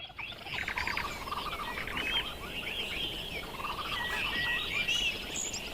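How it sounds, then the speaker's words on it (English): Birds chirping and twittering in a quiet outdoor space, a busy stream of high, overlapping calls over a soft broadband hiss, fairly close and continuous, with no talking. "you can hear a couple of sounds of birds"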